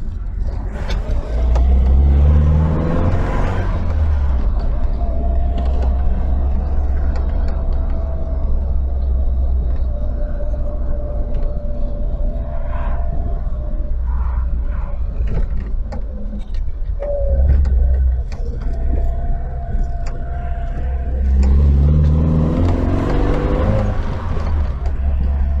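A Triumph Dolomite Sprint drives along country lanes with a loud, close engine drone from inside the car that rises and falls as it accelerates and shifts gears, with no talking.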